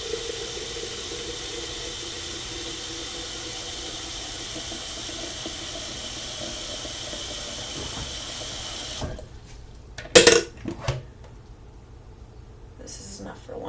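Hot tap water runs steadily into a kitchen sink while a coffee pot is rinsed, a loud continuous hiss that cuts off partway, followed by quieter clinks and handling sounds.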